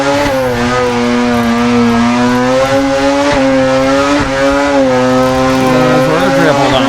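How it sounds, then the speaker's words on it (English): A drifting car in Assetto Corsa spins a double donut, engine droning loudly at steady revs while the tires squeal continuously through the whole spin. "Let's go for a double donut."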